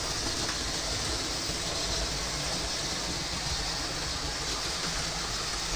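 A steady, dense whirring and rattling of small trains running along track, continuous and close, with no talking.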